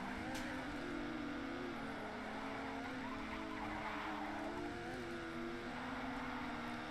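Racing car in Race Driver GRID pushing hard through a second lap at Istanbul, engine droning steadily with tyre squeal and skidding layered throughout, continuous and moderately loud.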